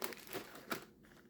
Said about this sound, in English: You get a plastic bag.